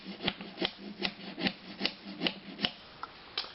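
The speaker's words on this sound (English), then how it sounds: "So I'm going to use these shims to just level both sides and just tap them in" Wooden shims are tapped in under a toilet base to level it: a steady run of about nine sharp, close knocks, evenly spaced, with no voices.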